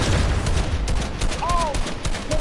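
Rapid, dense gunfire in the Fortnite video game, loud and continuous throughout, with brief tonal whistling sounds mixed in and voices talking underneath.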